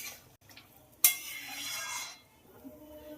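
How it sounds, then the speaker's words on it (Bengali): A spoon clinks against a pot, then stirring swirls hot water into a curry, a brief scraping, sloshing wash lasting about a second before fading. "জল দিয়ে খুব ভালোভাবে মিশিয়ে দিলাম।"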